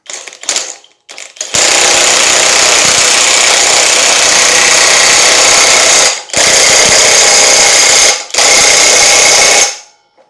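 Loud, close SeeSii WH750 compact 1/2-inch high-torque cordless impact wrench hammering a nut tight in three sustained bursts, briefly pausing between them, after a few short clicks and taps.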